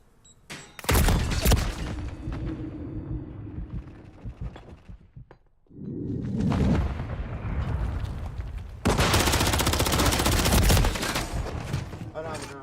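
Gunfire in a video game, with bursts of rapid mechanical firing broken by a brief lull, then a sustained loud fusillade toward the end.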